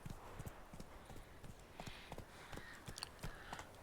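Roach, the horse in The Witcher 3 video game, gallops with rapid rhythmic clip-clop hoofbeats, fairly faint and steady, with a slight rise partway through.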